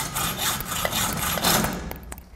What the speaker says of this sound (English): Continue cutting it with the hacksaw.